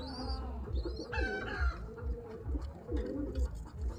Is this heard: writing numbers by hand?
no